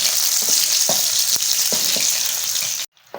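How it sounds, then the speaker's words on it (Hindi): Tadka of small onion, four green chilies and two opened cardamom pods sizzling loudly in hot oil, a steady close crackle with a few stirring clatters before it cuts off at the end. "तड़का, जो छोटी सी प्याज, 4 हरी मिर्ची, 2 इलायची छोटी सब्ज़ मैंने खोल के ये इसमें लगाया जी, ये तड़का।"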